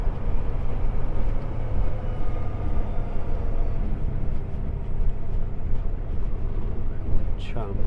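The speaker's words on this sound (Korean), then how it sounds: "미국은 기차 한번 지나가려면 오래 걸리는데" A train crossing the road in the USA, heard from inside a truck: a steady, heavy low rumble fills the whole stretch, with a thin squeal overhead and no break in it.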